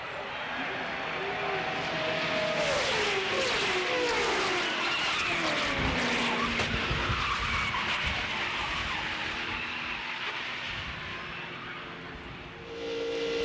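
Tires skid and squeal with loud engine roar and crowd noise as a NASCAR race car crashes half a lap from the checkered flag at the 2001 EA Sports 500, with pitched wailing tones sliding over dense continuous racket.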